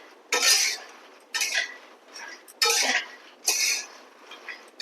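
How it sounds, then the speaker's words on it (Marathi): Fox nuts (makhana) being dry-roasted in a pan and stirred with a metal spoon: four or five separate bursts of rattling, scraping clatter, close and clear, with short quiet gaps between them. "मी दुसऱ्यांदा मखाने घेतली होती ती पण मी इथे छान भाजून घेते"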